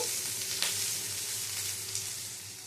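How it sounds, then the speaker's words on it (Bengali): Crushed garlic sizzles steadily in hot oil, a continuous close crackle and hiss with a couple of brief louder pops. "থেতো করা রসুনটা দিয়েও নেড়ে ছেড়ে নেব, রসুনটা ভাজা ভাজা হওয়া পর্যন্ত।"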